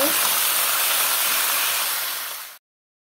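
Ridge gourd and potato pieces frying in hot oil, a loud, dense, continuous hiss that holds steady and then cuts off abruptly.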